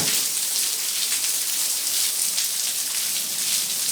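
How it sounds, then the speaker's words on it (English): Raindrops fall in a dense, steady patter, a loud and continuous wash of rain with no voices over it. "See the raindrops"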